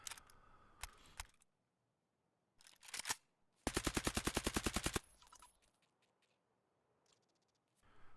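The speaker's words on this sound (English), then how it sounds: "Your weapons can also overheat on full auto, especially prolonged strings of fire with that suppressor attached." Suppressed full-auto gunfire from a weapon in the video game Escape from Tarkov: short clicky bursts, then one sustained rapid string of about a dozen evenly spaced shots lasting over a second, with quieter mechanical clatter before and after.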